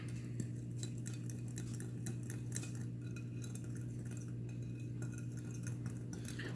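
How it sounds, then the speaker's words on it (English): Cake mix and diet soda whisked together in a large bowl with a wire whisk, a continuous rapid ticking clatter of metal against the bowl under a steady low hum. "I'm whisking thoroughly."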